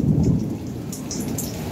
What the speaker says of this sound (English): It's raining, it's pouring. It's like a lot of lightning out tonight.